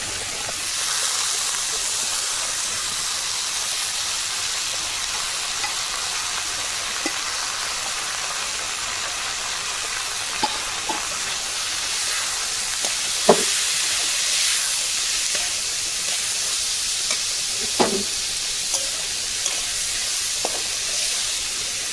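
Dal chochori frying and being stirred in a pan, a steady soft sizzle and hiss with occasional scraping clicks of the spoon, close and continuous, no talking.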